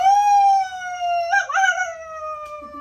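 A person imitates a howl with their voice, one long sustained wail that slides slowly down in pitch, wavers briefly in the middle, then trails off, loud and close with no other talk.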